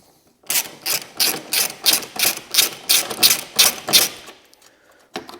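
A ratchet spinning off 10mm headlight bracket bolts on an MG ZS 180, producing a rapid, rhythmic run of about ten loud, close clicking pulls, then stopping, with one last faint click.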